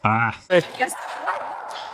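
A tense dog barks at another dog with a couple of sharp, close barks and a higher yip, then a voice speaks briefly.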